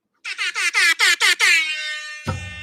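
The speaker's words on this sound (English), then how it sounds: "I forgot about my air horn" Several short, loud blasts of an air horn in quick succession, then a long sustained blare that cuts off, followed by a brief thump.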